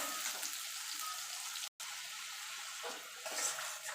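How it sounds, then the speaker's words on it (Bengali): Ginger and green chilli frying in a pan, a soft continuous sizzle with a brief break and light stirring scrapes, heard close and fairly quiet. "আদা আর কাঁচা লঙ্কাটা একটুখানি ভাজা ভাজা করে নেব"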